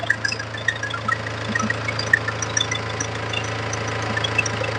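A 2011 Mahindra Scorpio diesel engine idles steadily, its low rumble carrying a rapid ticking knock throughout, heard up close with no talk.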